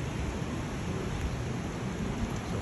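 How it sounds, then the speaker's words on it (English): Steady heavy rain pours down as a fast-moving storm arrives, a dense even hiss with no distinct breaks, heard at moderate distance. "Seconds and the rain is here."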